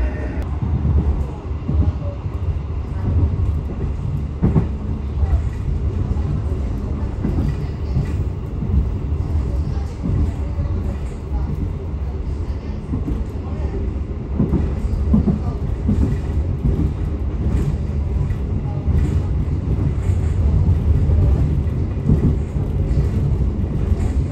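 The KA Matarmaja passenger train runs on rails between Blitar and Semarang. A loud, continuous rumble of wheels fills the clip, with steady rattling and clacks, heard from on board.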